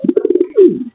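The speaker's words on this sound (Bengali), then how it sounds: "একটা কবুতর, ঠিক আছে, মাদিটা উঠছে বাবা" Lahori pigeons cooing close by, a rhythmic series of short low coos followed by one longer rolling, descending coo, with no other sounds around them.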